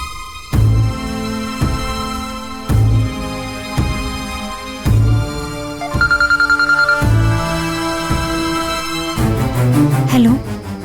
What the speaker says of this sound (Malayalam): ജീവനെ ഒന്ന് വിളിക്കാം.